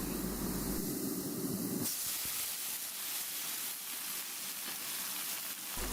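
Boiled amaranth greens hit a hot pan of browned onions and dried chillies, giving a loud, steady close-up sizzling hiss that continues without pause.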